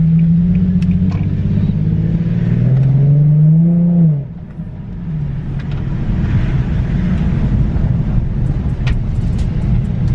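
An Infiniti G37 sedan on the road with freshly fitted camber arms, a loud close engine drone that rises in pitch before dropping off, then a steady low road rumble.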